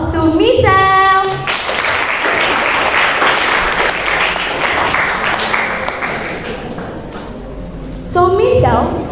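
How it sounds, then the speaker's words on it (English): A live summit audience gives a round of applause to a speech contestant, loud sustained clapping and crowd noise filling the middle stretch, framed by a voice speaking over music-like tones at the start and end. "please give a round of applause to Michelle"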